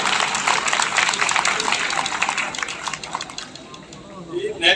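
Enthusiastic audience clapping at a Khatm-e-Nubuwwat prize-giving event in 2021, a dense, sustained wash of many hands that fades slightly toward the end.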